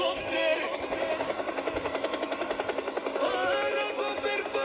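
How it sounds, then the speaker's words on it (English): A video-game helicopter gives a steady, rapid rotor chop with a whining engine tone, fairly close and even in level throughout. "Helicopter, helicopter."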